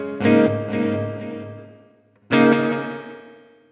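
An electric guitar played through a Boss RV-3 digital delay and reverb pedal: two chords struck about two seconds apart, each ringing out and slowly fading in a wash of delay repeats and reverb.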